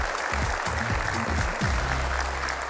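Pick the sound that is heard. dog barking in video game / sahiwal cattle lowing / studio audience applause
studio audience applause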